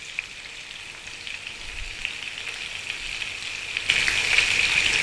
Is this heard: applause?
no